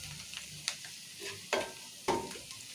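A spoon stirs chilli powder into a goat brain fry, giving three distinct scrapes and knocks against the pan over a low, quiet sizzle.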